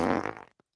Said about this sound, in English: Do the fart noise.